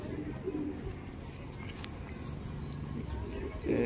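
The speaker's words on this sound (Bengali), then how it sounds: "একদম বন্ধ দমের মধ্যে পায়রা রয়েছে, এক পাত্তি লেজের পায়রা" Pigeons, including a fantail-type bird, coo softly in low repeated murmurs against a faint noisy background, with a voice briefly heard near the end.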